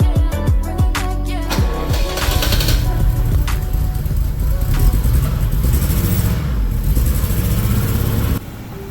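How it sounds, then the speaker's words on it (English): A Jaguar wagon's engine cranks and catches after almost 30 years without running, then idles roughly with uneven revs and rattles, loud and close, until it drops off near the end. "So this was the first time this car had run in almost 30 years"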